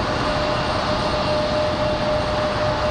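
Jet airliner departing for Dallas, a loud sustained engine roar with a steady whine, close and constant over a few seconds, with no voices.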